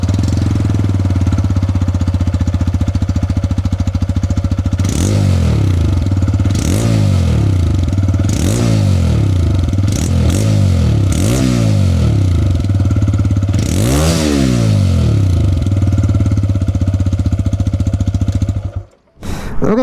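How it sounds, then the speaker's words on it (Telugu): A TVS Raider 125 motorcycle idles with a loud, steady thumping exhaust, then revs sharply about six times in quick succession before cutting off near the end. "ఈ బైక్లో ఎగ్జాస్ట్ నోట్ కూడా ఎలా ఉందో ఒకసారి చూద్దాం మనం."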